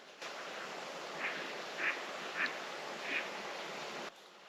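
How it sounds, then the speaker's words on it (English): A few ducks quack at a remote wilderness campsite, four faint, spaced calls over a steady wash of background noise like wind or water. "some ducks"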